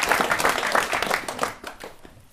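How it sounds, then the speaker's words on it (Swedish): A crowd at a Swedish rap battle event claps for Umeå Teaterförening and Allmänna Arvsfonden, a dense burst of applause that gradually thins and fades toward the end. "stor applåd för Umeå Teaterförening och Allmänna Arvsfonden också!"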